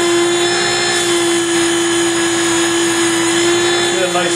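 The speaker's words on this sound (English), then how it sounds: "Finish it up with some sandpaper." Sandpaper rubbing a wooden part of a US Independence tall ship model, a steady, continuous close-up abrasive hiss running without pause under a constant tonal hum.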